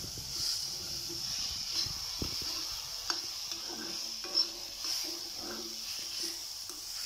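Bitter gourd stir-fried with jaggery in a pan, a soft, steady sizzle with occasional light scrapes and taps of a spatula, fairly quiet and with no talking.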